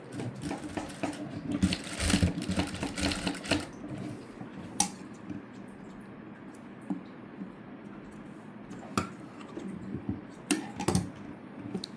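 Sewing machine stitching a cutwork blouse in a tailoring workshop, running in short bursts of rapid mechanical chatter for the first few seconds, then quieter with scattered clicks and brief stitch runs.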